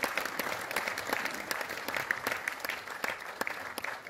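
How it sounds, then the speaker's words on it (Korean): Steady applause from a seated audience at a memorial ceremony for the late President Syngman Rhee, welcoming standing guests; even, continuous clapping that fills the room for the whole stretch, with no voices over it. "박수로 여러분 환영해 주시면 고맙겠습니다."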